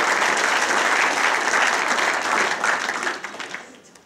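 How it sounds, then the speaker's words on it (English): A hall of fame awards night audience gives the caterers a full round of applause, a dense and loud wash of clapping that holds steady, then thins and fades out toward the end. "you have already applauded them, so I'm going to ask you to do it again"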